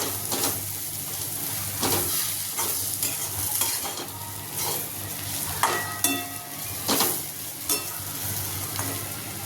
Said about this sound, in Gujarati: બરાબર હલાવી લઈશું